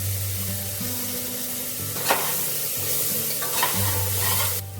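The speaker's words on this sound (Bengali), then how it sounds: "আর এখন সবজিগুলো একটু ভাজা হয়ে গেছে, এবার এর মধ্যে এই মশলাটায় অল্প একটু দেবো আদা কাঁচা লঙ্কা বাটা" Vegetables sizzle in a pan as ginger and green chilli paste goes in, with a steady close frying hiss, a low hum and a few sharp stirring scrapes.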